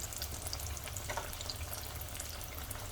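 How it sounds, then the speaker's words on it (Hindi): Lotus stem (kamal kakdi) vadas deep-fry in oil with a dense, continuous crackling sizzle, close and steady throughout the short stretch. "तो इन्हें अच्छे से क्रिस्प होने तक फ्राई कर लेंगे"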